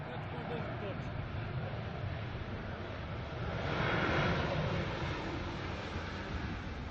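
Airliner landing with one engine on reverse thrust after an emergency return, a broad steady jet roar that swells to a louder rush midway and then holds, with voices murmuring beneath.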